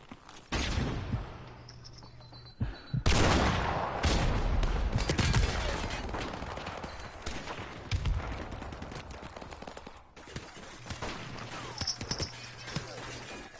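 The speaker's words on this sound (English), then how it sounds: "sniped across the map with the M16." M16 fire in a Call of Duty match, likely Modern Warfare Remastered, comes as sharp bursts of game gunfire with loud spikes among scattered shots and background battle noise.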